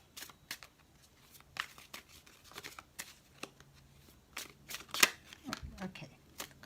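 Tarot cards being shuffled and handled in repeated crisp riffles and soft slaps, close by, with a person talking quietly between the card sounds.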